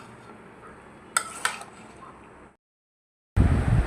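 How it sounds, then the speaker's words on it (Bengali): Bottle gourd and tomato pieces tipped into a pan of shrimp curry, with two sharp clinks of utensil on metal over a low sizzle, then a short silence and a loud burst of frying. "এখন হচ্ছে কি আমি লাউটা দিয়ে দিব, সাথে 2টা টমেটো টুকরো করে দিচ্ছি।"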